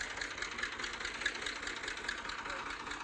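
A tractor engine, stuck in mud while pulling, idles and knocks steadily with a rough, rhythmic chug, heard from close by with a faint voice underneath.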